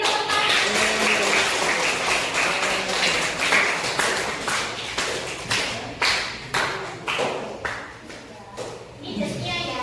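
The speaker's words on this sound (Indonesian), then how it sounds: "Bagus, beri tepuk tangan." A class of students claps for classmates, a rapid patter of clapping that slows into fewer, louder individual claps and taps, with shuffling and voices underneath.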